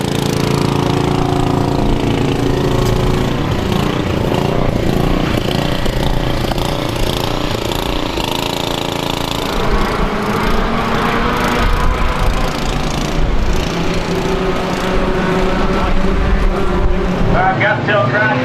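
Race cars roar around Star Speedway in a continuous, loud, droning engine blur that rises and falls as they pass, and a voice talks over the noise throughout.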